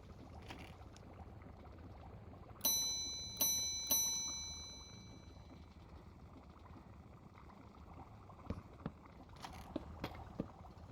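Three bright metallic bell strikes from a bell in the Minecraft Create mod, ringing in quick succession with sustained ringing tones that decay over a couple of seconds, above a steady low background hum.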